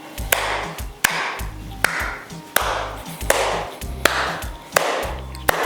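A test sound plays in an untreated home studio room without acoustic panels: a repeating pattern of sharp transient hits over low thumping tones, about eight evenly spaced strikes, ringing into the bare room.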